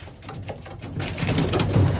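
A racing pigeon coos in low, soft, repeated throaty phrases that grow slightly louder toward the end, over a light background hiss with no talking.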